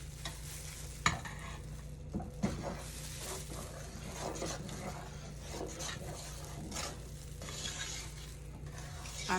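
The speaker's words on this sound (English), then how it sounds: "I found that you have to continuously stir it or it definitely will scorch the bottom of your pan" Sea moss gel being stirred in a pan so it will not scorch, giving a soft, steady scraping and gentle sizzle with a few sharper clinks of the utensil against the pan, close and fairly quiet.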